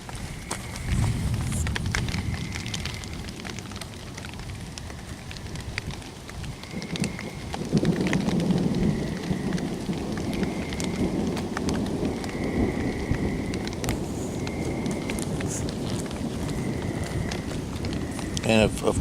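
Rain pattering steadily on a camping hammock tarp during an overnight outing, a loud close patter with heavier drumming bursts and soft repeated tones, and someone talking over it throughout.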